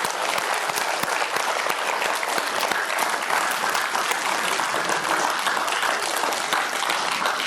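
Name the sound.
audience applause for teachers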